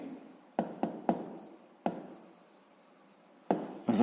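Hand writing with a pen on paper while solving a sixth-grade math exercise, a run of close scratchy strokes with sharp taps as the pen touches down, each stroke fading between marks.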